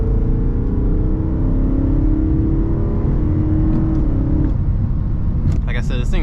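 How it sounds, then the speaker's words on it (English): A BMW E90 M3 with its exhaust valves closed, heard from inside as a loud, constant engine and induction drone with a rising whine, ending with some short sharp clicks. "So valves are closed right now. But let's see if you guys can get some of that induction noise."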